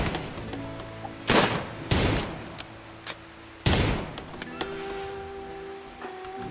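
Gunfire in the RimWorld colony game: a few sharp separate shots with a smaller pop between them, loud and close against a quiet steady background.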